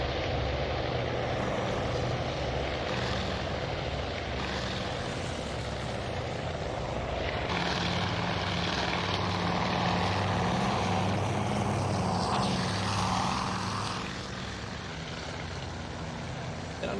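Continuous droning of aircraft propeller engines in the naval strategy game Task Force Admiral as carrier planes launch, a steady mid-level hum that swells slightly midway and eases toward the end.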